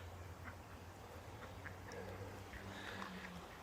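Ducks quack in short scattered bursts beside a river under a steady outdoor background, the calls moderately close and fairly faint.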